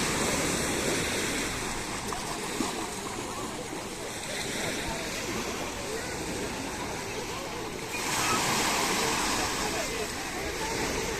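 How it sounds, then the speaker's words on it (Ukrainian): Water pours over small stones in a little waterfall-like spill outdoors where people are swimming, a steady broadband rush that swells louder near the end, with a voice talking over it. "на камінчики напливає вода і прямо таким водоспадом"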